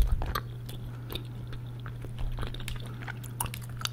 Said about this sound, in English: Ear-to-ear gum chewing sounds.